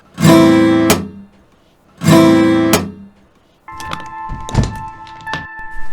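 Guitar strings struck hard with the string damper removed, from a cheap guitar gadget: two loud, ringing strums with rich harmonics that fade over about two seconds each, then looser plucked notes and sustained overtones.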